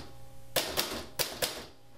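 Manual typewriter keys striking in a quiet room: four sharp, distinct clacks in an uneven rhythm, close and crisp, with low background hum between them.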